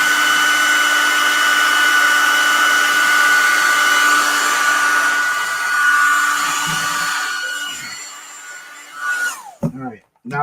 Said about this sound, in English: I'm going to hit this with a blow dryer real quick.